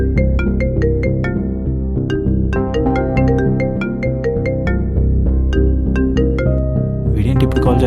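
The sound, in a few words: mobile phone ringing with an incoming call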